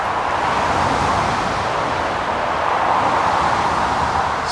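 Steady road traffic hisses past a roadside camp on a central reservation, a loud, continuous broadband wash of tyres and engines with no distinct individual cars standing out.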